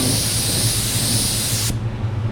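A spray gun applying water-based paint for a two-tone refinish hisses loudly and continuously at close range, then cuts off sharply near the end.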